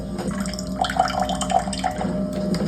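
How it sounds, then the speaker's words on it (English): Water running from a kitchen faucet at low pressure, a steady close splashing stream with small drips and gurgles, no talk. "that's just from the water coming out of your faucet"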